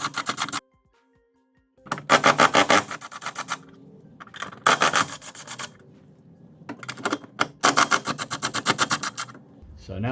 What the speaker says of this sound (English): Just going to use the socket on a gun to make it easier.